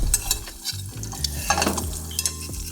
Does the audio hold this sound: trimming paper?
no